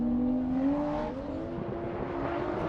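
A Nissan Skyline drift car accelerates hard with a rising engine whine that climbs in pitch, then settles into a steady rev as it chases on a drift track, loud and near with no talking.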